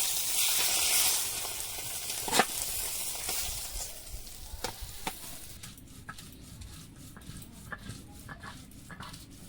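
Dried chillies hit hot oil in a pan as a Bengali fish curry begins, giving a loud, hissing sizzle that fades to a softer crackle with occasional clinks.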